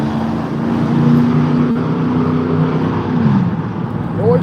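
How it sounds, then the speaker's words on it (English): Road traffic rolls past, with engine hum rising and falling as cars go by, and one vehicle sweeps through near the end. "Noise of cars."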